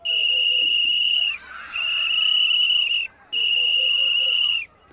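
Three long, piercing blasts on a firefighter's whistle, each steady and shrill for over a second with brief gaps between, loud and close.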